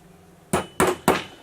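Three sharp hammer blows drive a nail at a slight angle into a wooden plank, evenly spaced and close, with no voices.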